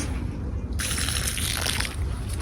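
Water trickling and gushing in a backyard garden in Jamaica, a steady close liquid flow that grows brighter and splashier partway through, with no talking.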